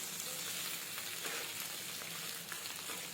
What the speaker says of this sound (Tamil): இப்போ நல்லா கருவேப்பிலை பொரிஞ்சிடுச்சு பாருங்க.